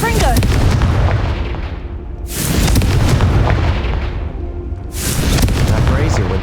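Hogwarts Legacy's Confringo fire spell lands in two heavy, booming blasts with rumbling low-end tails, loud and close, over a steady game soundscape.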